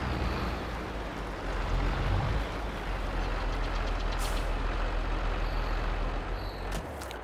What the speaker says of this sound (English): There's a very nice engine sounds on this.